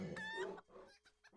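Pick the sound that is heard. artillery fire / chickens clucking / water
chickens clucking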